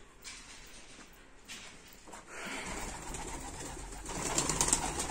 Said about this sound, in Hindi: ये जाली से जहाँ पे वो बैठी हुई है कबूतरी मादी